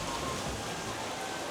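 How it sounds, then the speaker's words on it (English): Heavy tropical rain falling outdoors as a storm rolls in: a steady, dense hiss of rainfall, even and continuous throughout, moderately quiet with no distinct individual drops. "Well, the rains are coming."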